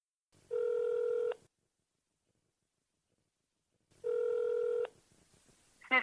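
Telephone ringing on the line after a call is dialed: two steady electronic tone bursts about a second long, a few seconds apart, with a faint click and a short burst of noise at the end.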